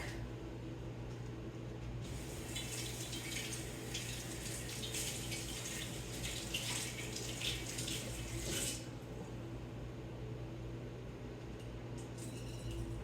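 Kitchen tap running over fresh dill being washed, a steady rushing stream for about six seconds that then cuts off, over a low constant background hum.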